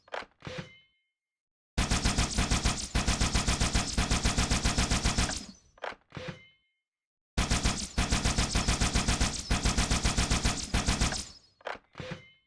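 A Halo video game weapon fires two long, loud automatic bursts of rapid repeated shots. Each burst is framed by short mechanical reload clicks and snaps, with silence in between.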